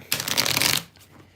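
A deck of tarot cards riffles in one quick, close shuffle lasting under a second, crisp and papery, then falls quiet.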